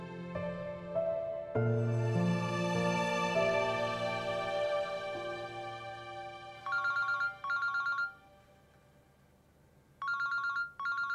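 Mobile phone ringtone in a drama scene: a melodic tone plays over sustained music, then two pairs of bright repeating ring bursts sound close and clear, with no talk.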